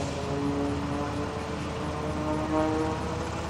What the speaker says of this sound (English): Notice, he just loves to roll the airplane inverted.